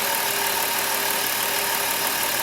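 A Dodge Caravan engine with an EGR fault (code P0404) idles with a steady mid-range rumble, stumbling a little, rough and uneven, continuous and fairly close with no talking.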